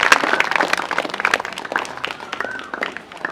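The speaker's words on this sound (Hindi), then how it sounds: "सब जोर से ताली बजाएंगे यीशु मसीह के लिए।" A church congregation at a Hindi worship service claps loudly together for Jesus, a dense wash of many hands at close range for the whole stretch, with faint voices mixed in.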